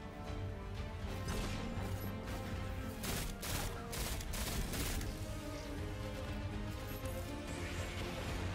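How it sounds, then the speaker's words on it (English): In Destiny 2, a tank is shot and blows up amid heavy combat, a loud crashing burst with rapid overlapping impacts and gunfire-like cracks over a dense, sustained roar of battle noise. "Yeah, you can hit that tank and it'll blow up."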